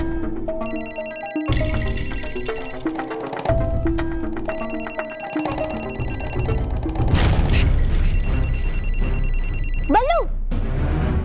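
A mobile phone rings loud and close with a repeating electronic melodic ringtone in bursts, set against dramatic music with booming hits and a rising whoosh near the end; no speech over it.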